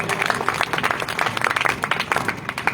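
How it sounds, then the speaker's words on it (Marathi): An audience at an Ambedkar Jayanti talk claps together in a lively, uneven burst of hand claps, with a faint murmur of the small crowd beneath. "त्यांच्यासाठी एकदा तुम्ही सर्वांनी टाळ्या वाजवायच्या"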